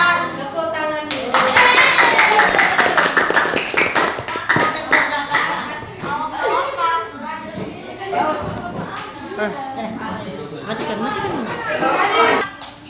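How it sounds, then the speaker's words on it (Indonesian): A primary-school class claps hands together during a lesson on the sun, earth and moon, a burst of dense applause from many children that rises early and carries on with chatter and voices mixed in. "Tepuk tangan dulu."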